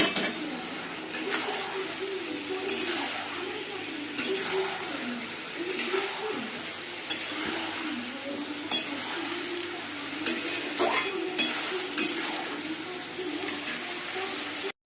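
Fried chicken sizzles in a pan with rice while a utensil stirs and scrapes, with periodic clinks against the metal and a steady frying hiss throughout.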